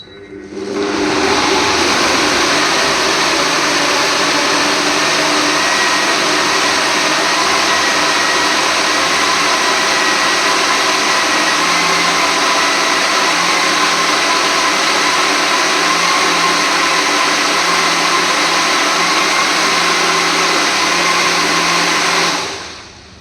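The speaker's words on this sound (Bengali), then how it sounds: "এবার আমি আবার মিক্সটা চালিয়ে দিচ্ছি।" A mixer grinder whirs loudly and steadily for over twenty seconds, blending a no-sugar, no-milk ice cream mixture of tender coconut, apricot, apple and pistachio, starting and stopping abruptly with no voices.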